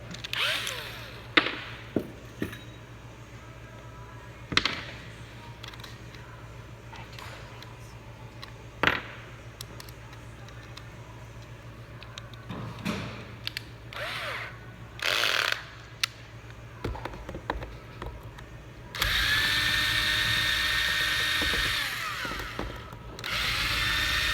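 A power screwdriver whirs in short bursts as it drives screws into a lithium battery housing, close by and fairly loud, followed by one longer continuous whine near the end.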